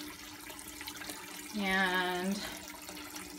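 Tap water running briefly into a container, a steady near splashing stream that starts mid-way and lasts under a second, over quiet room tone.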